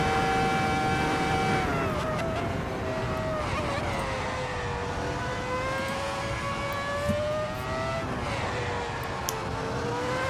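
Ferrari F2004 Formula One car in a racing game, its high-pitched V10 engine whining steadily with shifting pitch through corners, continuous and fairly quiet, no talking.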